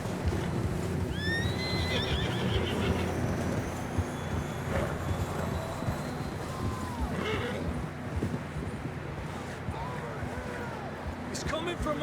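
Horses in Red Dead Redemption 2 whinnying loudly and repeatedly over steady clip-clopping hooves, a busy outdoor scene under a constant low rumble.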